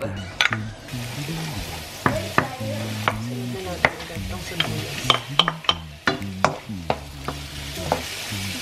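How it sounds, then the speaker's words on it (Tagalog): Garlic, onion, shrimp and crab sautéing in a pan, with frequent sharp clinks and scrapes of stirring over a steady tonal background sound. "Gisa muna tayo bawang sibuyas, tas itong shrimp and crab."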